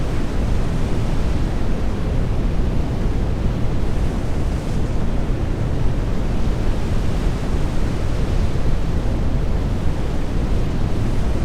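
Wind and waves in the NAUTIS Home ship simulator game: a loud, dense, unbroken roar of rushing wind and surf with no letup, with no voices over it.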